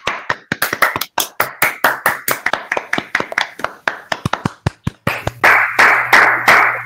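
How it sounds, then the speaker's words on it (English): Participants in an online space conference clap over a call with a time lag, so single sharp claps arrive one after another in a staggered string, then thicken into a denser patter at the end. "so the claps, they come one after the other"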